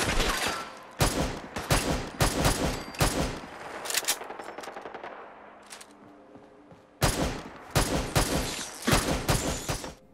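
Rapid bursts of modded rifle gunfire in Fallout 4, loud sustained volleys of full-auto shots separated by short pauses, with a gap of echoing tail in the middle before the firing resumes.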